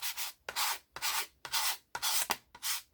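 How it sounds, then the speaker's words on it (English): Wood edge being sanded by hand with a sanding block while making a writing board: six steady back-and-forth rasping strokes, close and fairly loud, with brief gaps between passes. "So handy to have a sanding block."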